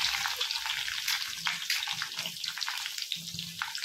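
Onion fries in hot oil with whole cinnamon, cloves, green cardamom, dried red chilli and bay leaves for a Bengali chicken curry with potatoes, a steady close sizzle with a continuous hiss and faint crackles.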